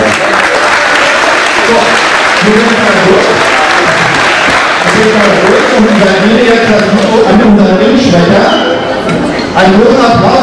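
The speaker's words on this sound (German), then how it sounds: "Den auch noch mal kleiner Applaus." Wrestling event crowd at an MWA show applauding loudly and continuously, dense clapping mixed with cheering and crowd noise, with an announcer's voice over it.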